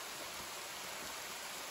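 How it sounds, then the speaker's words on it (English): A creek with a small waterfall along the Natchez Trace gives a steady, even rush of flowing water, soft and continuous with no voices. "we found a waterfall that we was not even looking for"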